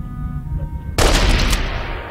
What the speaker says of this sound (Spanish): La cadencia de disparo sigue sin convencerme.